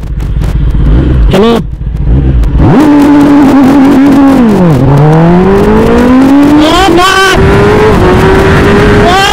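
Kawasaki ZX10R motorcycle launching hard under launch control, a loud, close engine roar sweeping up through the gears with sharp shifts between rising pulls after a brief throttle blip.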